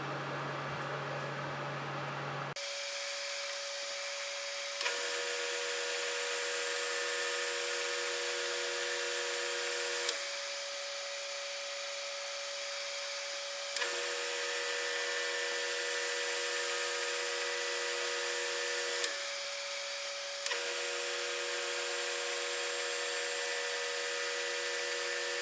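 A wood lathe hums steadily for over twenty seconds while micromesh sanding pads from 1800 to 6000 grit rub a segmented pen blank, with brief clicks and shifts in the hiss as pads are changed.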